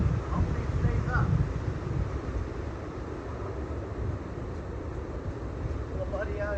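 Strong hurricane wind buffeting the microphone on a golf course, a loud continuous roar with gusty rumbling, heaviest near the start, with no clear speech.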